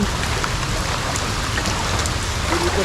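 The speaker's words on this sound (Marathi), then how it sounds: "और बारिश ही बारिश हो रही है." Steady rain pours down during a group motorcycle ride on a wet Independence Day outing, a loud continuous hiss of drops and spray filling the whole stretch with no voices.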